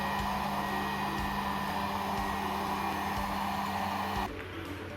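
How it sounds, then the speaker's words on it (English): A heat blower runs steadily at close range in a thermoelectric waste-heat power setup, a loud continuous whirring roar with a faint rotating turbine, dropping slightly in level near the end. "So we have just used the heat blower. Now the heat blower is continue on."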